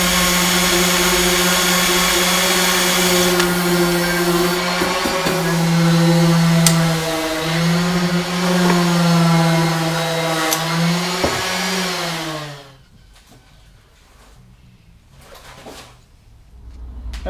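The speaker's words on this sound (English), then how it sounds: "Drill that fucker clean out." Power drill boring out a bolt on a race tractor, a loud sustained whine that shifts pitch as the bit bites and bogs, cutting off abruptly to quiet shuffling near the end.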